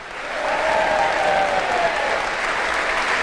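Audience applause for the Brighton and Hove Albion head coach at a fan question event, a full, steady wash of clapping from a crowd that swells and holds throughout.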